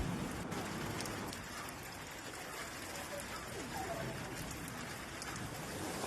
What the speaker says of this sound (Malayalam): പുറത്ത് അത്യാവശ്യം നല്ല മഴയുണ്ട്.